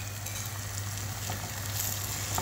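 Egg, tomato and onion frying in a pan give a steady, close sizzle with a constant crackling hiss throughout and no one speaking.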